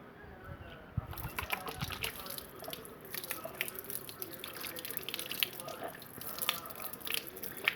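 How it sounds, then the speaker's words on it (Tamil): Running water from a tap splashing and dripping while hands are rubbed and rinsed under it after scrubbing with a charcoal hand wash, a steady close-up wash throughout. "இப்போ டேப்பில் கை கழுவுவோம்."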